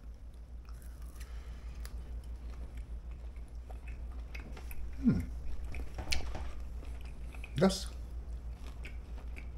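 Biting into a crispy air-fried pork chop with Cajun seasoning, then chewing, with a few crunchy bites close up amid soft mouth sounds and a brief spoken word.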